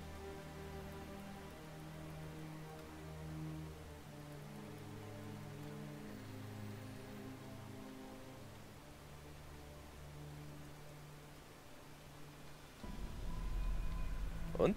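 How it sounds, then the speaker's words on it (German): Continuous soft rain patters steadily under a low droning musical background in The Witcher video game, with a louder rustling swell near the end. "da regnet es bestimmt wieder"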